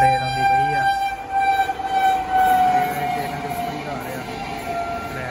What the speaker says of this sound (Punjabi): ਟ੍ਰੇਨ ਦਿਖਾਉਂਦੇ, ਟ੍ਰੇਨ ਆਉਂਦੀ ਪਈ ਆ।